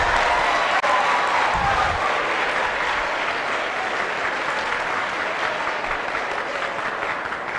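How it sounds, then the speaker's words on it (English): A large audience at a national public speaking competition grand finale keeps up loud, sustained applause for Accra Academy. Dense clapping with faint cheering fills the hall, and a brief low thump sounds early on. "Congratulations. A round of applause."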